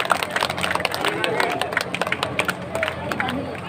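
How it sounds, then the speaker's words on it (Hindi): Lively clapping from a village gathering welcoming a former sarpanch at a foundation-stone ceremony, a rapid uneven patter of many hands mixed with crowd chatter and some cheering. "जोरदार तालियां बजाइए"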